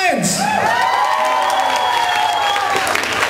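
A concert crowd cheers and applauds for a band, loud clapping with whoops and shouts filling the space while a voice carries over the noise.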